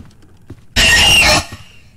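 Screech, a monster in the Roblox horror game Doors, lets out a sudden loud shrieking burst lasting under a second before cutting off, set against near silence.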